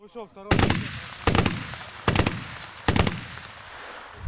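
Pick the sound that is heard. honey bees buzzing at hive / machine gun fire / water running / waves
machine gun fire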